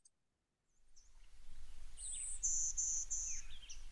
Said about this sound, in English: I'll play a little soundbite of a golden wing.